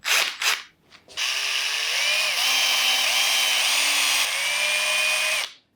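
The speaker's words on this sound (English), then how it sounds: "So we're gonna try the drill." A power drill whines steadily for several seconds after a few brief bursts, its pitch dipping slightly as a new, sharp bit bites into a hard ceramic pot.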